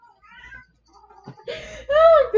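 A house cat meows loudly and close by, two drawn-out rising-and-falling cries in quick succession after a brief softer vocal sound.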